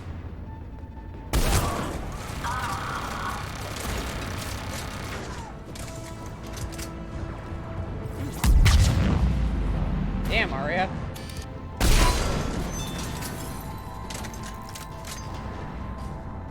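Cannon fire and heavy explosions in the video game Mass Effect 3, with loud booming blasts near 1.5, 8.5 and 12 seconds over continuous battle noise, while someone talks throughout.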